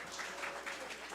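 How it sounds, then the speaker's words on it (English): Audience clapping at a country music opry show, a brief run of soft applause with a faint hum beneath it. "Clap, clap, clap."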